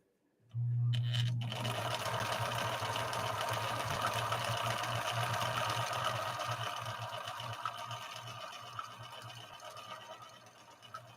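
A Viking 6020 sewing machine starts up abruptly and stitches a snaky pattern with a steady, close, continuous whirring hum that fades slightly toward the end, with no talking.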